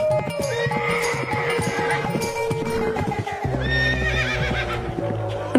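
A horse, ridden off toward a palace, gives a loud, wavering whinny over several clopping hoofbeats, followed by a lower snort and further hoof clatter, close and clear with no speech.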